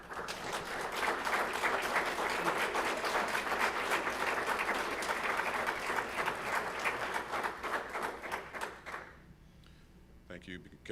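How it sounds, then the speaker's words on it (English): A standing audience applauds graduating sheriff's corrections officers at an academy ceremony, loud sustained clapping filling a hall for about nine seconds before tapering off into quiet room noise. "Why don't we please stand and give these men and women a round of applause?"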